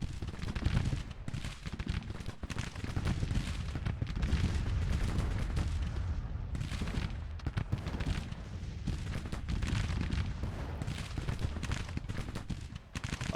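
Skirmishers open fire in the Grand Tactician: The Civil War strategy game, a dense, continuous crackle of massed musketry rolling on steadily for the whole stretch.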